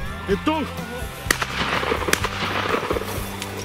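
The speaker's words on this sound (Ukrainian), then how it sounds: "в шквалі пострілів" Several sharp shotgun cracks ring out in quick, irregular succession outdoors during a pheasant hunt as a flock of pheasants flushes from bushes, with rustling and a few brief voices in the background.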